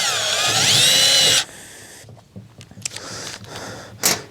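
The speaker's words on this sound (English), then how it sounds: "So I'll just pre-drill this fiberglass." A power drill whines loudly for about a second while pre-drilling fiberglass, spinning up in pitch, then stops, leaving faint scraping and handling noises.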